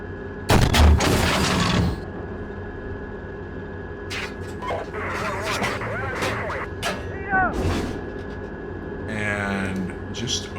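A tank in the Steel Beasts combat simulator fires a HESH round at an enemy bunker, a loud booming blast near the start that rolls off into rumbling engine noise while voices talk over the battlefield.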